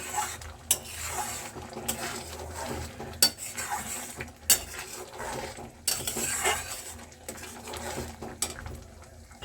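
A spoon scrapes and clanks against a pan while egg tadka is stirred, with repeated sharp metallic knocks over a soft sizzle of frying, close and moderately loud, no talking.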